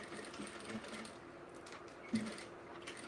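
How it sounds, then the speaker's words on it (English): A sewing machine runs quietly along the bottom of a bag gusset, a soft continuous mechanical hum with a small bump of louder needle noise near the end. "now I'm just gonna sew along the bottom"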